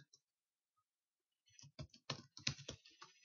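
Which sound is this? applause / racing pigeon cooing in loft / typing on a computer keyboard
typing on a computer keyboard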